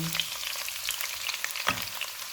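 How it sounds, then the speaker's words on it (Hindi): Two onions sizzle and crackle steadily in half a cup of hot oil, with a brief stirring scrape partway through. "ऑयल गर्म हो गया, इसमें 2 प्याज डालेंगे"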